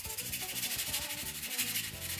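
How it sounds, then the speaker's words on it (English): Dry 220 grit sandpaper rubs over a handmade broomstick replica in steady, quick back-and-forth strokes, a close, continuous scratchy hiss with no voices heard. "This time I decided to do dry first."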